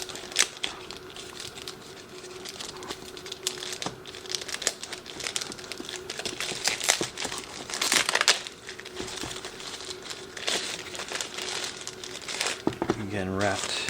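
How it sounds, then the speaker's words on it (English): Plastic wrapping crinkles and crackles continuously up close while a drone controller is unwrapped during an unboxing, with busy rustling bursts throughout and a person talking over it. "Again, wrapped very well in plastic."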